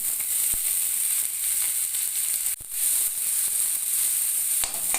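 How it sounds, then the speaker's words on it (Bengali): Chopped onions sizzle in a little mustard oil in a pan, a loud steady hiss with a few faint clicks and a brief dip midway, no voices. "খুবই সামান্য পরিমাণে সর্ষের তেল দিয়ে দিলাম আর পেঁয়াজ কুচি দিয়ে দিচ্ছি ভাজার জন্য"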